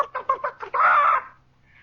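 A voice imitates a chicken over a two-way army PA intercom: five quick clucks followed by a longer drawn-out squawk, close and fairly loud, then silence.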